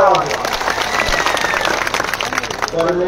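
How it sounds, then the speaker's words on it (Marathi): Crowd applause rises at an outdoor political rally for OBC leader Laxman Hake in Shringarwadi, Beed district, Maharashtra: a dense, steady wash of clapping lasting about three seconds, with a voice faintly heard at its start and end. "एकदा त्यांच्यासाठी टाळ्या वाजवा"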